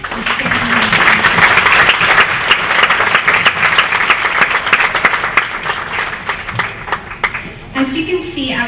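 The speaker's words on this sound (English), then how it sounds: "Can you please give them a round of applause for standing." An audience at an Eid al-Adha celebration gives the young Scouts a round of applause, loud sustained clapping that fades toward the end as a voice begins speaking.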